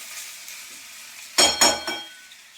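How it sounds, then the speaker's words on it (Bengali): Onion seeds (kalonji) frying in hot oil in a home kitchen give off two or three short, loud bursts of sizzle near the middle, then settle to a quiet background hiss. "এটা পেঁয়াজ কালিটা ভাজছি"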